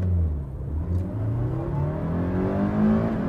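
A first-generation Toyota MR2 engine revs hard under acceleration from a launch, its rising, smooth mid-pitched drone climbing through the gears, loud and close with no talk.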